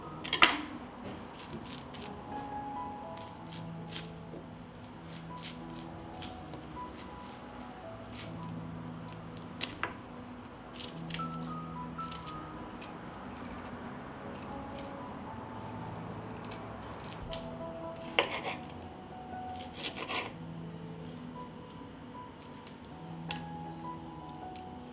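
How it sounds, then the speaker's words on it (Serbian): Lemons are peeled by hand, removing rind, white pith and seeds, then cut. Soft, faint wet squishes and light knife taps come in a sparse, irregular patter close by. "Na isti način očistit ću i 2 limuna. Ljuštimo koru, beli deo i semenke."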